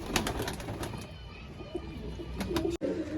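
Loft pigeons, a gift from a friend being settled into new nest boxes, give soft, faint cooing close by, with little talk and a sharp break near the end.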